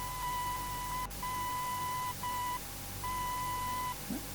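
Radio range station identifier beeps in Microsoft Flight Simulator's PMDG DC-6: a few long and short tones in a Morse-like pattern over a faint hiss of static, with no talking.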